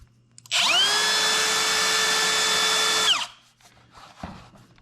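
A router fitted with a template guide whines up to a loud high-pitched spin for about three seconds, then winds down and stops, followed by faint handling knocks nearby.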